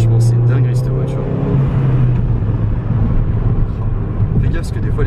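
A Ford Fiesta ST 185 hp hatchback drives along with a steady low engine drone and road rumble filling the cabin, while people talk over it throughout.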